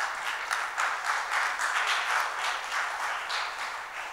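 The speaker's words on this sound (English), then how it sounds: "Can we please give them a round of applause?" Audience applause in Darbar Hall at the Jaipur Literature Festival, a steady, dense patter of many hands clapping at fairly loud level throughout, with no voices over it.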